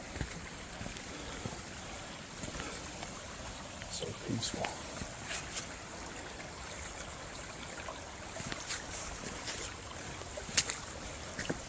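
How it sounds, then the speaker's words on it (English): Creek water flowing over a hiking trail crossing, a steady soft wash running throughout with faint bird chirps, while a person speaks briefly nearby. "Another creek crossing here."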